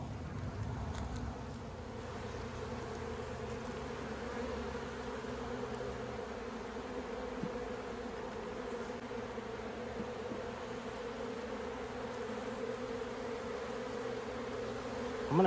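Honeybees buzz around an opened hive during a fall inspection, a dense steady drone of many wings close by with individual bees passing near, continuous for the whole stretch.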